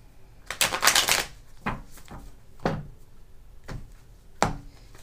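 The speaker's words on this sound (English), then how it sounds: "I want to make sure they get at least a good shuffle going on." Tarot cards shuffled in a handful of quick riffling bursts, one long burst at the start, then shorter ones spaced out, close and crisp.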